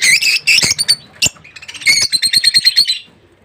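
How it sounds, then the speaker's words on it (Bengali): Lovebirds chirp and tweet at close range in a quick, busy run of high calls, with a rapid series of repeated chirps toward the end before the calls fade out. No one speaks. "এই যে এগুলোকে বলে লাভার পাখি খুব সুন্দর দেখতে"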